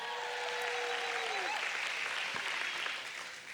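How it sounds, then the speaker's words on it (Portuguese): A church congregation applauds for Kathy, producing a steady, moderately distant wash of clapping. A brief tonal whine rises and falls over the first part. "Um aplauso para a Kathy."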